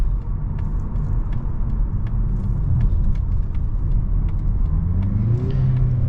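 A 2022 Mazda CX-50 SUV drives with a steady low engine rumble and road noise, the revs dipping and rising near the end as it downshifts; no one speaks.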